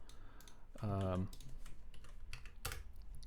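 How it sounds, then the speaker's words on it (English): Keys clatter on a computer keyboard in quick irregular bursts, fairly faint, with a short stretch of speech in the middle. "this means we have to keep typing things in"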